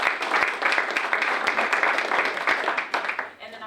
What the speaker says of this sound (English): let's give our sponsors a round of applause